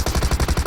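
Rapid burst of automatic gunfire in PUBG Mobile, loud and close, a steady rhythm of shots over less than a second with no talking.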